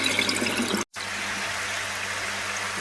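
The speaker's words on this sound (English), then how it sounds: "the water's going through the outlet, the bacteria filter, to the second one in line" Water flowing through the outlet of a koi pond's bacteria filter into the next filter in line, a steady close rushing splash. It cuts out for an instant and then carries on evenly, with no talk.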